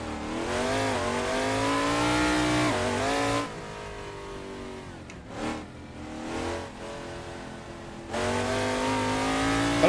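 A V8 race car in Assetto Corsa revs hard and climbs through the gears, drops to a lower burbling idle-like drone with a short blip in the middle, then roars back up loudly near the end.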